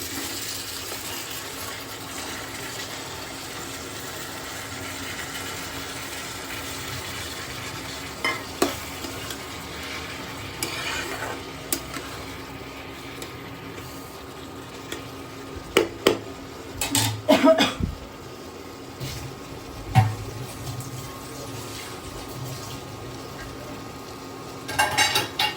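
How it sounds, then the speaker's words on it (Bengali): Tomatoes and green peas fry in a wok with a continuous hissing sizzle, broken by occasional sharp clanks of a utensil against the pan toward the end. "টমেটোর সঙ্গে সঙ্গে এখন আমি কড়াইশুঁটিগুলো ছেড়ে দেবো"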